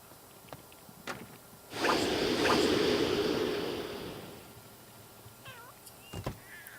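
Cats meow in a life simulation video game: a few short, fairly faint meows near the end, following a broad swelling whoosh of noise in the middle, with no talking.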